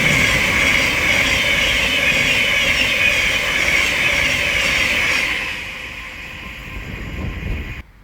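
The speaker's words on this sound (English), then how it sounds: "we're about to have a Thameslink Class 700 pass by from London King's Cross to Peterborough" A Thameslink Class 700 electric train passes at Welwyn Garden City on the East Coast Main Line, running from London King's Cross to Peterborough. A loud close-up rush and motor whine fades away after several seconds.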